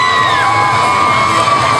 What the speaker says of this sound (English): they fire the whole crowd up. Everybody gets on their feet, gets involved.